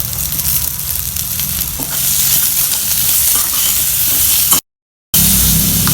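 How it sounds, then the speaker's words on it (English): Onions with a small piece of tamarind fry in a pan, giving a loud close sizzle with stirring scrapes, a short gap of silence, then the sizzling resumes. "Again fry this till the onions are well done"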